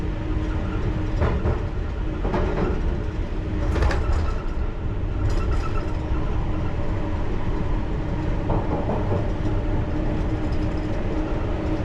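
A London Underground Piccadilly Line train rumbles steadily through a tunnel during engineering works, a loud continuous roar with occasional rattles and clanks from the carriages and no talk.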